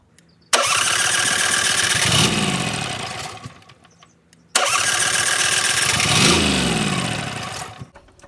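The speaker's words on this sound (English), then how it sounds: "I'm just going to crank it over a little bit and shut it down again" A 2003 Onan Marquis Gold 5500 generator cranked twice without starting, each a loud close starter whir lasting about three seconds before slowing and dying away, with a short pause between, no talking.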